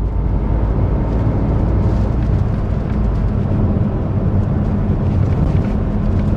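Citroen C3 Aircross SUV, built in India, accelerating hard on a test drive: a loud, steady low engine and road roar heard from inside the cabin, with no talk.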